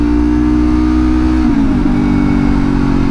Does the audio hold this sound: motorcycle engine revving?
yes